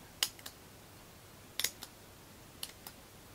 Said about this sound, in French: Avec un ciseau qui coupe, bien évidemment.